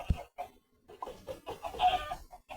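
Chickens in the video game Minecraft give several short, close clucks in an uneven run, each burst brief and fairly quiet with small gaps between.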